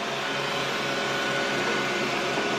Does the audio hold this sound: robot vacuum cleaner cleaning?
yes